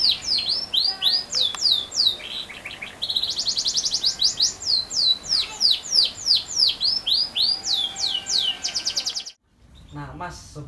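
A canary sings loudly and close, rapid trills and repeated chirping phrases running almost continuously before a brief pause and a final burst.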